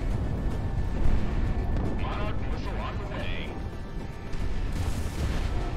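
Enemy ground targets firing guns in the flight combat game Project Wingman, a continuous rumbling barrage of booms and gunfire running throughout while a player talks over it.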